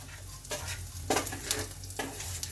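Coriander, mustard seeds, fennel, cumin and carom seeds roast in a pan, giving a soft dry sizzle with a few quick scraping stirs of a spoon close by.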